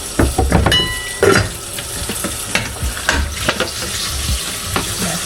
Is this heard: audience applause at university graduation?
no